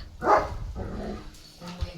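A German Shepherd barks outdoors: one loud, sharp bark followed by a couple of softer, shorter barks and a final yip, fairly close with light background noise.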